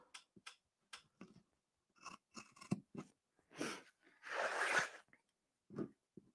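Quiet, close snips of sharp scissors cutting fabric for applique, a series of short separate cuts and one longer rustling cut.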